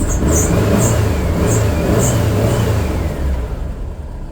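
An engine revs loudly and steadily after its carburetors have been rebuilt, rising and holding with smooth response and no popping, close to the microphone with no talk.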